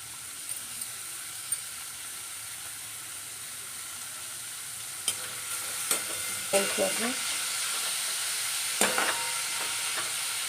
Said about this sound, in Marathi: यावर कांदा घालून खरपूस भाजून घ्यायचा आहे